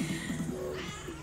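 A house cat meows close by, one drawn-out, wavering call with a short second rise near the end, alone with no talk.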